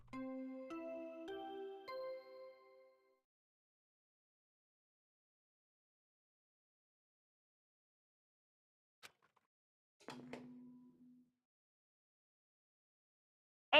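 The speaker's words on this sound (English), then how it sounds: "What you just heard was the body discovery announcement." A body discovery announcement chime from the video game Danganronpa: Trigger Happy Havoc plays a bright, loud sequence of tonal notes for about three seconds, followed by long silence, a faint click and a brief low tone.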